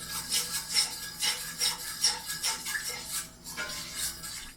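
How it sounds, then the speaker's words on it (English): Flour-thickened gravy being stirred in a pan, a rhythmic rasping scrape of the utensil repeating about twice per second, fairly close and steady with no talk. "I want to keep stirring that, and as I keep stirring, it's going to thicken up."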